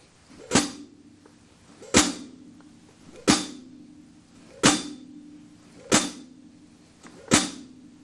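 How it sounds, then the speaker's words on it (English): A closed hi-hat snapped shut with the foot pedal produces six sharp, short chicks, spaced evenly about every 1.4 seconds. Each one is crisp and close, with a little ring between the strokes. "like a really sharp, snappy sound out of my hi-hat with the foot"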